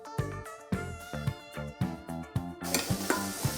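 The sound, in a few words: chopped onions added to frying garlic and stirred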